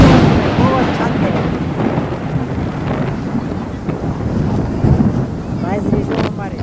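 A rainstorm brings loud, steady wind buffeting the microphone, with deep rumbling thunder rolling underneath throughout.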